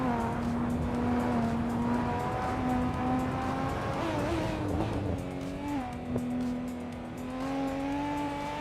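A 2015 Renault Sport RS01 and other race cars in a racing video game, with one steady, loud engine drone whose pitch rises and dips through gear changes, with occasional tire noise and no talking.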